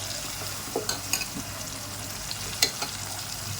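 Chopped tomatoes and green chillies frying in a pan for ragda chaat give off a steady broad sizzle, with a few soft stirring scrapes and one sharper clink near the end, no voices.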